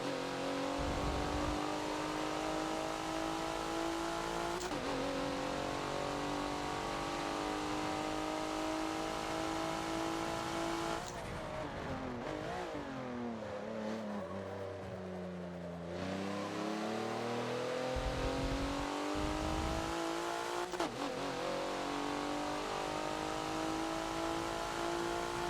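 A Porsche race car in the Forza racing game, handling with understeer at the Homestead road circuit, drones loudly and steadily at high revs, dipping as it brakes and shifts down into a corner midway before climbing again.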